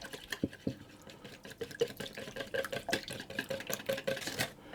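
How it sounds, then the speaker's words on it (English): Batter ingredients for coconut lemon tassies whisked in a bowl, a fast run of light clinking, tapping strokes close by, steady and alone. "I'm just going to whisk that and get those all combined."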